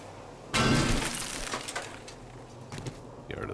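Car lights shatter in the survival game 7 Days to Die, a sudden loud burst of breaking glass followed by scattered tinkling shards and a smaller crack near the end.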